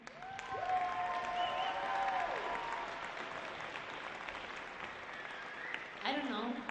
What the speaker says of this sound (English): Please, round of applause for Jenna.